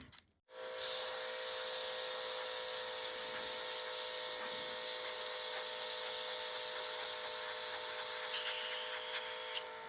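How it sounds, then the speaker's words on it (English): A steady cordless airbrush spray hisses continuously for several seconds after a click on, with a faint motor whine underneath, then tapers slightly at the end, emptying leftover gel nail polish. "just spray out the little bit that's in there"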